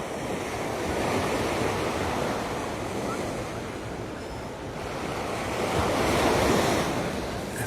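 Waves break and wash up on Waikiki Beach at night, two rolling surges of surf that swell and fade, close and fairly loud, with wind buffeting the microphone.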